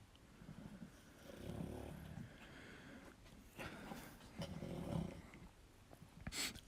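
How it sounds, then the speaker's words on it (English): Faint growling and snorting from dogs somewhere in the room, low and rumbling in irregular bouts, with a sharper noise near the end. "sorry if you can hear my dogs in the background"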